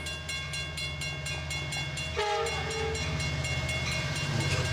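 A train rolls along the tracks with a steady rhythmic clickety-clack and a blaring horn, loud and close, growing fuller midway as it draws nearer.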